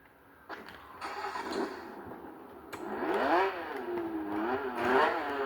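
Nissan car engine in the Roblox game Fix It Up, revving up and down in rising and falling sweeps, fairly close and moderately loud with no talk over it.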